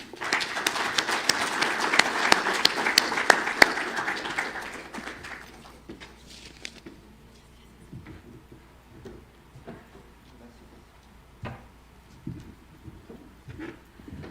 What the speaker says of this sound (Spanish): solicitamos un aplauso para ellos